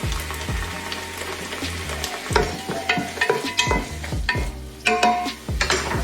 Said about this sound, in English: So just gonna let that simmer down for for like about 5 minutes until the onions get caramelized, until the green pepper gets soft